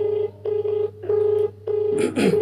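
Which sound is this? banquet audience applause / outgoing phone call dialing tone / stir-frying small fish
outgoing phone call dialing tone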